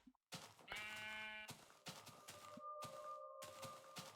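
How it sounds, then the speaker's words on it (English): Sheep bleat in the Minecraft Beta 1.7.3 video game, several separate wavering calls in close succession, clear and alone with no talking. "I'm gonna shear these 2 sheep, because they won't stop bothering me."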